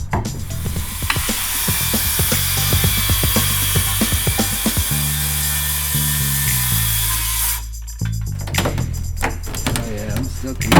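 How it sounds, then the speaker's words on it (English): An oscillating multi-tool cutting through the old floor of a 50-year-old truck camper: a loud, continuous buzzing rasp that holds steady, briefly changes pitch, then breaks into shorter bursts of cutting near the end. "I'll cut those points with the multi-tool and pull this floor out today"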